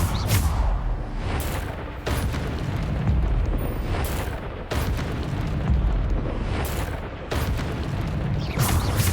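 Bombarda spell blasts in the Hogwarts Legacy game during a boss fight, several heavy booming explosions spaced a couple of seconds apart over a loud continuous rumble of combat noise.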